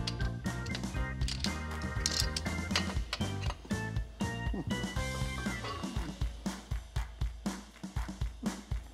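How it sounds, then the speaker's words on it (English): A Summit Pro LS main cap removal tool works on a 410ci stroker LS engine block, producing rapid ratcheting clicks and metallic mechanical clatter, close and irregular, with steady clicking toward the end. "A nifty item to make disassembly easier is this Summit Pro LS main cap removal tool."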